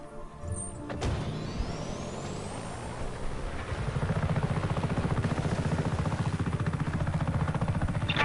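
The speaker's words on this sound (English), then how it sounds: "You can take this chopper, Fratre." Helicopter in the open-world action game Just Cause 3, a steady rotor chop that builds into a loud, rapid pulsing after a sharp burst, with no talking.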